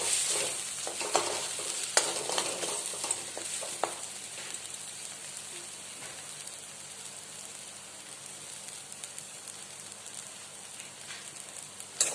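Potatoes frying in a pan as the base for a fish curry, with a close steady sizzle and crackle, sharper stirring clicks and scrapes early on, then a calmer hiss.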